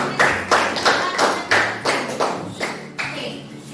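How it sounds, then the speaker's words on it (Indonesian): Rhythmic classroom clapping, about ten even claps in a steady beat, fairly close, with no talking over it. "berikan tepuk tangan untuk kita semua"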